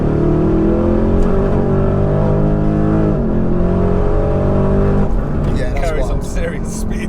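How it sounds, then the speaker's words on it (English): Porsche Cayenne Turbo GT engine pulling hard under full throttle, a loud steady roar with rising pitch and no gear change, heard from inside the SUV while people talk over it. "I don't think it dropped a gear there when I put my foot down."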